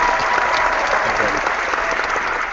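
A crowd at a RISK board game competition breaks into sustained, loud, even applause for the winner, a thick continuous patter of many hands with no pause.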